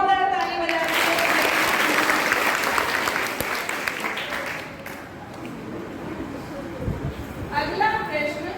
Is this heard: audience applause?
yes